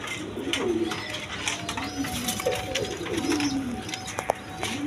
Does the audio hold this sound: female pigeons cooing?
yes